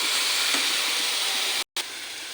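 Ginger and green chilli being stirred together in a hot frying pan, a steady loud sizzle and hiss that continues throughout and cuts out briefly near the end.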